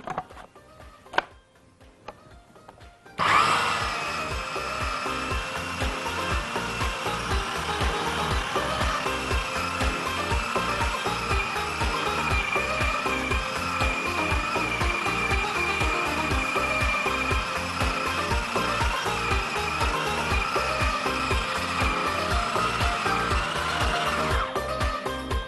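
A food processor whirs steadily for over twenty seconds as it blends a rice kofta mixture, with a constant pulsing motor drone that begins abruptly after a few quiet seconds.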